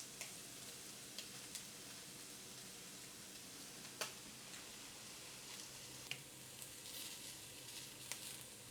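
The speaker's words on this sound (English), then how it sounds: "So I'll just cook the shrimps, so that's out of the way." Shrimps fry in a pan with a steady, moderately quiet sizzle and occasional small pops and ticks, with no talking over it.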